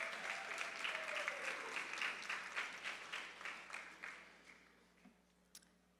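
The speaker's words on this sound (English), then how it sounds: "Let's give them a big round of applause." Audience at a school assembly applauding, a dense round of clapping that starts full and gradually tapers off, ending with a few scattered claps.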